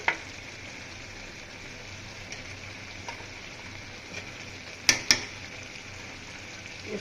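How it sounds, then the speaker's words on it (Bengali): Fish heads stirred and frying with cabbage in a pan, a steady soft sizzle throughout with a few sharp utensil clinks near the end, close and fairly quiet, no talking. "মাথাগুলো দিয়ে একটু নাড়াচাড়া দিয়ে দিয়েছি, বাকি টমেটোটাও দিয়ে দেবো।"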